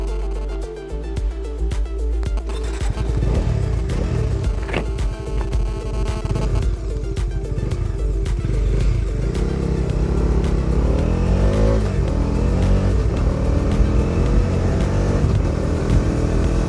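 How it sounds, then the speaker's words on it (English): A Bajaj Dominar 250 motorcycle out on a ride, its engine droning steadily with rising and falling revs as it shifts through the gears, loud and close under a constant rush of wind. "So I'll show you what this Bajaj Dominar 250 can do. Let's go for a ride."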